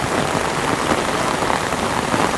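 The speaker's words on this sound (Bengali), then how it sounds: "আমাদের এখানে চট্টগ্রাম শহরে অনেক বেশি বৃষ্টি পড়তেছে" Heavy rain pours over Chittagong city streets, a dense, unbroken hiss of drops hitting surfaces, loud and steady throughout with no voices.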